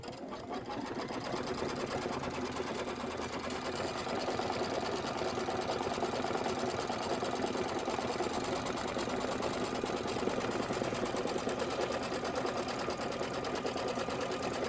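A computerized embroidery sewing machine stitches the tack-down on background fabric for a Kimberbell candy corn dress form quilt block, with a steady, rapid mechanical stitching hum that runs continuously at an even level throughout.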